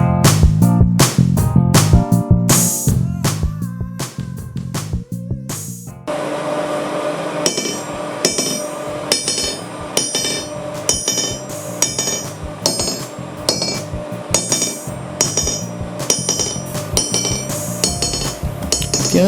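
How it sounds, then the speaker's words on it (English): A hammer repeatedly strikes a homemade anvil made from a section of train track, producing bright ringing metallic clinks in an irregular rhythm, close and loud without speech. "decide to check how the anvil sounds"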